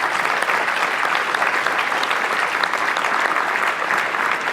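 A conference audience applauds its sponsors at a civic and community engagement event: dense, even clapping from a large crowd that holds at a steady, loud level for the whole stretch.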